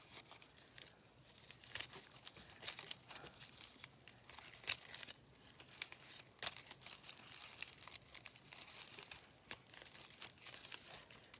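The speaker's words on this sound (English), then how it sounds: "let me see if I can tear this" Paper being torn and crumpled by hand while making a junk journal page: faint, close crinkling and soft ripping sounds in irregular short bursts over a quiet background, with no talking.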